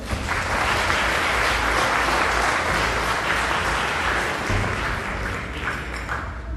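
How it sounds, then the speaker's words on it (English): Sustained audience applause at a gala dinner, a large crowd clapping loudly and steadily throughout, dense and even with no talk over it. "Can you all please give them another round of applause?"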